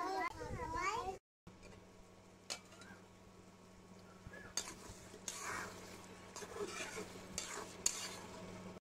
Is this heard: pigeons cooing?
no